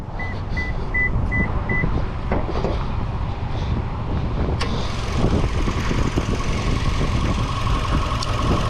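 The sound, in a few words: 2023 Toyota Camry XSE 2.5 liter 4-cylinder engine idling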